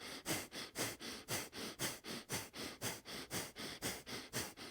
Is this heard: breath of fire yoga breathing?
yes